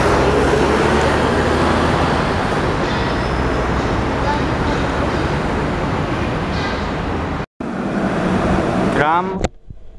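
A tram rolls past in Dubai Marina with a loud, steady rumbling roar mixed with traffic, cutting out abruptly near the end before someone speaks.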